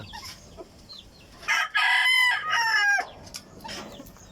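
Peruvian hens cluck loudly in a backyard as they wait for morning feed, a close, dense run of calls in the middle with quieter scattered clucks before and after, no talk.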